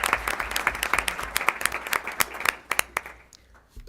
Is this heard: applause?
yes